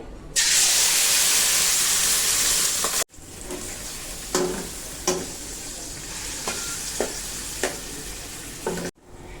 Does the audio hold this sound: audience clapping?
no